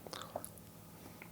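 Quiet, close chewing and biting on soft peanut butter fudge, a few faint mouth sounds over a short moment with no talking.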